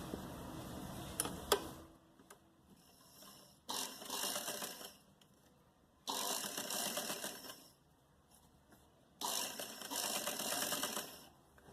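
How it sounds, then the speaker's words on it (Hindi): A sewing machine stitches a cord onto cloth in three sustained bursts of fast, steady mechanical whirring, separated by short pauses, after some handling clicks at the start. "यहाँ पे हम सिलाई लगा के इसको डोरी को इसके साथ फिक्स कर देंगे"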